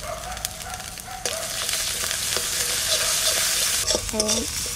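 Ginger and garlic paste cooking with onion paste in a pan for a pomfret fish curry, a loud, continuous sizzle broken by scraping stirs and clinks, close up, with faint voices or tones in the background.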